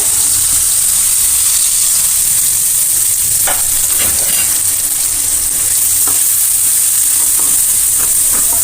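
Finely chopped onions fry in oil with asafoetida and turmeric for baingan bharta, a loud, continuous close-up hiss with occasional spatter pops and light stirring, no voices.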